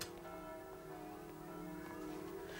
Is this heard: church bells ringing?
yes